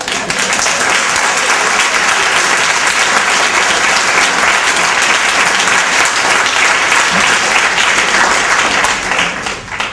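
Audience applause following a poem at a Taylor Mali spoken-word reading, a dense, steady wash of many hands clapping that fills the room for the full length and tapers slightly at the end.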